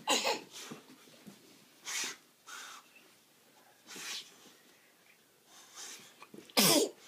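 Several loud, close sneezes burst out at intervals, with breathy sniffs and snorts between them.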